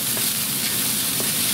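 Onions with fresh garlic sizzle steadily in a hot pan as a tomato soup base, a continuous close frying crackle with faint stirring scrapes.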